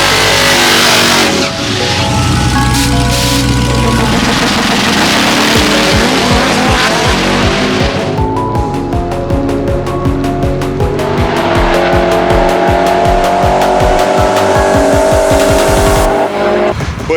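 A 1000 HP Jeep Trackhawk and a swapped Hellcat Redeye drag racing over a quarter mile, loud roaring engines revving hard with tire squeal, a brief gear-change dip near the middle before the full-throttle howl resumes, close and continuous.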